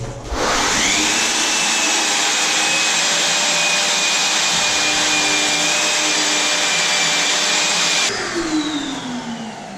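A vacuum cleaner runs loud and steady through bathroom renovation work, its continuous high whine roaring close by, with a shift in pitch near the end.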